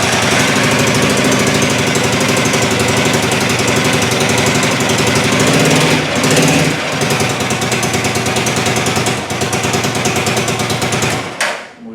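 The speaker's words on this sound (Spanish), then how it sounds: "como podemos verificar, la moto ha encendido sin ningún problema" A Tallan motorcycle engine started with the electric starter button runs steadily with a rapid, loud mechanical chug, close up, then cuts out near the end.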